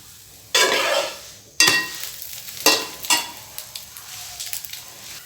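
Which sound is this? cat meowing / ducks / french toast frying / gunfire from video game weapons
french toast frying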